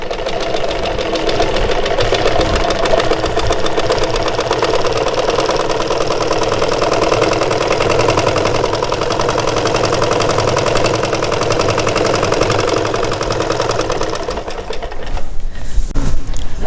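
A sewing machine stitching fabric at a steady fast pace, a loud continuous mechanical whir with rapid needle chatter, close by, stopping near the end with a few clicks.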